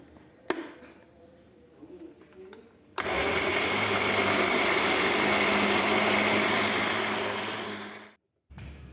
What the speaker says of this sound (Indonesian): Tomat sudah selesai dikupas dan akan saya blender sampai lembut.